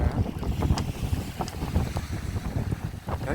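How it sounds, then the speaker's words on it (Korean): Strong wind buffets a seaside breakwater of tetrapods, roaring steadily with heavy low rumble and gusty microphone buffeting, no voices heard. "바람이 이렇게 세게 불면은"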